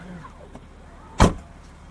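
A single solid thump as the cargo lid of a BMW X5 xDrive 35d is shut, sharp and close, standing alone in a quiet, snowy setting with faint background hum.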